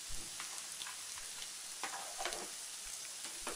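Mutton liver fry with coriander being stirred in a pan, a steady low sizzle broken by soft scraping strokes of the spoon, with no voices.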